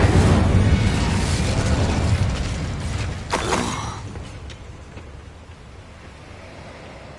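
Casting the Incendio fire spell in Hogwarts Legacy unleashes a loud roaring burst of flame that dies away into a fading crackling rumble.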